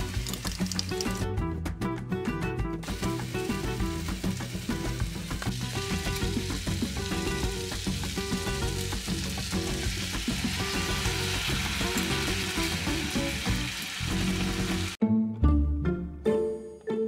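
Vegetables fry steadily in a pan inside a camper van, a constant dense sizzle with light clinks and scraping throughout, then a sharper clatter near the end.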